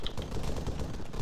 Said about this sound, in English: That's an HMG, holy shit.